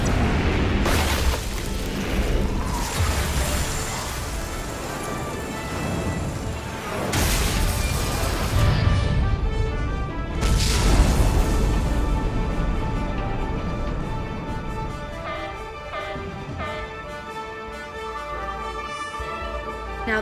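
A starship weapon salvo in the Star Trek Resurgence video game sets off heavy booming explosions and crashing blasts. The sound is loud and dense, with big impacts around seven and ten seconds before it settles into a rumbling, ringing tail.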